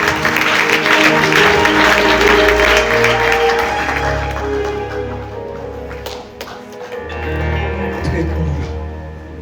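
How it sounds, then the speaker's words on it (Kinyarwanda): Wedding guests break into applause, a loud, sustained patter of clapping that carries under music and a voice before easing off and swelling again. "Mwakomeye Imana amashyi."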